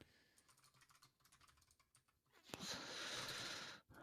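Quiet, close typing on a computer keyboard, an irregular patter of soft key clicks, followed by a louder stretch of rushing noise near the end.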